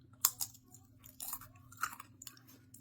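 Crunchy baked tortilla shell being chewed up close, a few sharp crackling bites followed by softer crunching chews over a low steady background hum.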